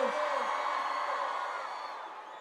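A concert crowd of women at Rolling Loud Los Angeles 2019 screams and cheers in a loud sustained roar, fading slightly toward the end.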